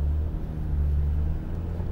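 Porsche GT3 RS engine, warm, idling in PDK Sport mode: a steady low rumble with a strong drone, close and continuous with no revving.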